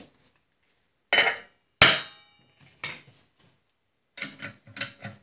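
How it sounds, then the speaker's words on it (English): A hammer taps on a tapered part of a Snapper small engine during a rebuild: a few sharp, close metallic strikes with short ringing decay, ending in a quick cluster of lighter taps. "Then tap on it with a hammer. The shock will go into the taper and it should pop it apart."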